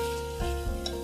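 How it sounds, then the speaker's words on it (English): Pork belly crackles and sizzles as it is stir-fried in a pan with no added oil, a brief close sizzle with a scrape of stirring partway through. "Keep on stir-frying until the pork oil comes out."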